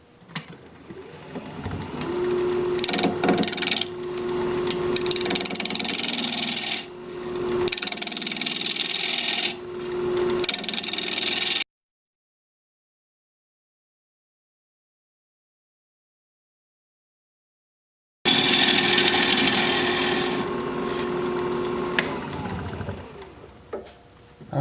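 A 5/8 inch standard grind bowl gouge cuts a plum wood live-edge bowl on a lathe spinning at 1200 RPM, giving steady scraping and hissing passes broken by short pauses, followed by a long silent gap and then more cutting.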